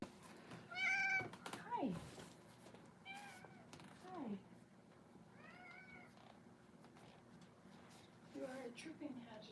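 A house cat meows several times indoors, short rising and falling calls spread across the stretch, close and moderately loud, with a person speaking briefly between them.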